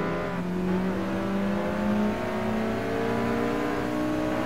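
A race car engine in the video game Gran Turismo Sport revs and whines, pitch climbing through gears in a steady rising drone, loud and close.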